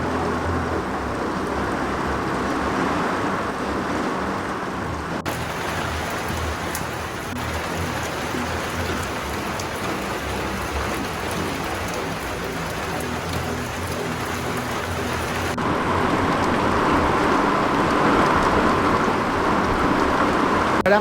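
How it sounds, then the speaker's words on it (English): Squall rain lashes a laundry house beside an RV during a Florida tornado outbreak, a dense, loud, unbroken roar of rain on the roof that swells louder toward the end. "it's really picking up. You can hear that. So that squall is hitting us right now."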